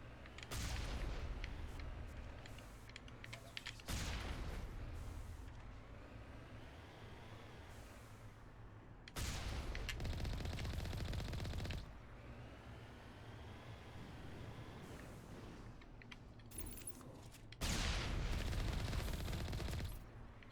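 Cannon fire in a space video game comes as loud sustained bursts of rapid booming shots, three long volleys separated by quieter rumbling stretches, with no talk over them.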